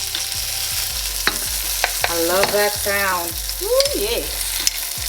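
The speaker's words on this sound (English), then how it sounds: "And a little fresh garlic. I love that sound." Fresh garlic and green beans sizzle and crackle in hot olive oil in a home kitchen, a steady close frying hiss with stirring scrapes, and a voice briefly murmurs over it.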